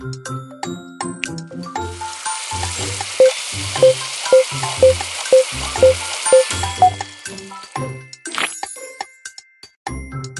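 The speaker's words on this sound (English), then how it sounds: "Add them to the oil and press the button to fry." Cartoon oil frying in the kids' cooking game Kiddopia: a broad sizzling hiss runs through the middle of the clip, with a series of regular bright dings, chimes and playful tonal game effects around it.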